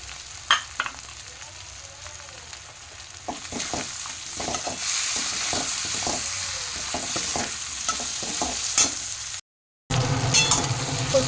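Fried potatoes are added to a sizzling pan and stirred, with a continuous loud sizzle and spatula scrapes, then a brief silent cut before the frying resumes.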